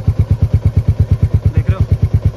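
A Royal Enfield Meteor 350 motorcycle engine idles close by with a steady, rapid thumping pulse, loud and rhythmic.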